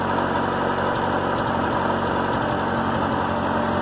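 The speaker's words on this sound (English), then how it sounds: "And yeah, the exhaust got a little bit of a leak, but it sounds all right." Ford 8N tractor engine idling with a slight exhaust leak, a steady, continuous mid-low chug that holds even and fairly close throughout, with no talking over it.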